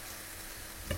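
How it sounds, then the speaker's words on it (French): Mini peppers sizzle on a grill or barbecue, a faint, steady crackling hiss with a brief louder tap near the end. "On fait griller, enfin c'est juste histoire de faire colorer un petit peu les poivrons."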